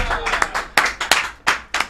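A studio audience claps for a guest named Lydia during a live-streamed tech sale show, with sharp, scattered handclaps in irregular bursts, fairly close and moderately loud, and no voices over them.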